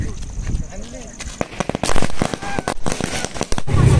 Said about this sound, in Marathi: ही फटाक्यांची माळ